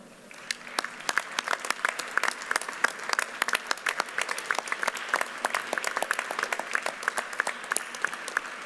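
Sustained applause from a university commencement audience, clapping for the graduates' families and supporters; dense, steady hand claps that hold at an even level throughout.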